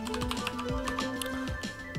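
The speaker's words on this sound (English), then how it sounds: "So I just type car dash dash version." Quick clicking of keys being typed on a computer keyboard, close up, in an uneven run of taps, entering a command in the Windows 10 command prompt.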